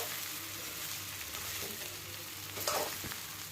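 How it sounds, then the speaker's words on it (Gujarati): Dhokla pieces are stirred slowly in a pan over a low gas flame for vagharela dhokla, a quiet, even frying sizzle with a brief scrape near the end. "આવી રીતે ધીમે ધીમે હલાવી લેવું, ઉપરથી નીચે આખું બધું જ હલાવી લેવું।"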